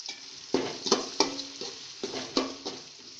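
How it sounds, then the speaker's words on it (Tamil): A spoon stirs fish curry masala in a frying pan with rhythmic scraping strokes, about eight distinct stirs over a soft frying sizzle, close and fairly quiet. "நல்லா கிளறி விடுங்க"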